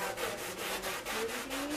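Steady rubbing and scrubbing with a Scotch-Brite pad and Dawn soap during a bedroom clean, heard as a continuous close abrasive rasp with a quick back-and-forth rhythm.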